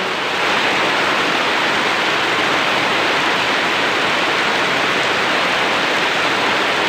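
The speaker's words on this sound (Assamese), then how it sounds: "এতিয়া বৰষুণ আহি আছে কিন্তু ওলাব পৰা নাই" Heavy rain falls outside a house amid waterlogged surroundings, a loud, unbroken broadband roar that stays constant from start to finish with no voices.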